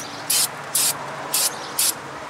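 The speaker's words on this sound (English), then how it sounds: "Give it another little rinse down just to play it safe." Four short bursts of aerosol brake cleaner spray rinse down the front brake parts of a 2007 Nissan Altima, each hiss lasting about a fifth of a second, evenly spaced and close by over a quiet background.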